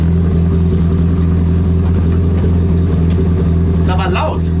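A loud, modified Opel Manta engine gives a steady, heavy, low drone close by, and a brief voice breaks in near the end.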